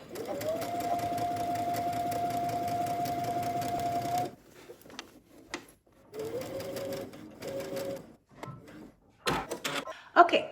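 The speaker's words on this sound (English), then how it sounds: "Now you want to head to your sewing machine and you want to go ahead and understitch as far as you possibly can on" A sewing machine whirs steadily for about four seconds while understitching a bodice lining, then sews in shorter bursts separated by quiet handling noises and clicks.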